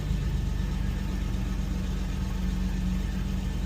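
A 1981 Chevy engine idles steadily up close, a continuous low rumble with an even, rapid pulsing that holds level without revving.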